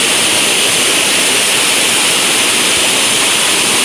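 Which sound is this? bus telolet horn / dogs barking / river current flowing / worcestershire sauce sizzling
river current flowing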